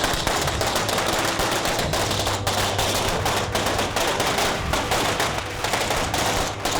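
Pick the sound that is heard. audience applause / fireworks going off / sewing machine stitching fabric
fireworks going off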